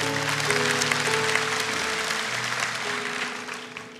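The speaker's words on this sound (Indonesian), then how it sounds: "Kasih tepuk tangan untuk Tuhan" A church congregation clapping for God during a service, dense steady applause throughout with sustained organ-like tones underneath and no clear speech.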